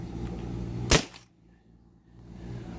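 A single sharp paintball marker shot powered by a 20 ounce CO2 tank, one loud close crack followed by a quick fade into near silence.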